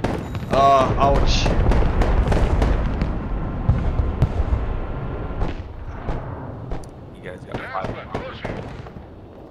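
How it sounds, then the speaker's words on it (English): Gunfire and explosions in the Broken Arrow video game, with loud bursts of shots and booms packed into the first seconds and then trailing off into scattered reports, while players talk over the action. "Of course he's shooting me."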